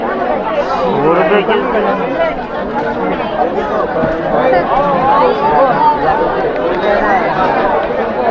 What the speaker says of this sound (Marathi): आज फ्रायडे आहे तरी सुद्धा गर्दी बघा केवढी